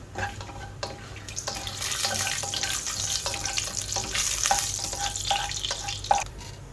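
Nuts such as cashews or almonds frying in a pan for carrot sago payasam, giving a steady close sizzle with repeated soft scrapes and taps of a stirring utensil, and no talk.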